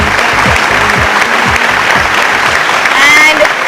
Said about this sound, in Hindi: हबीब एंड शबाना के लिए जोरदार तालियां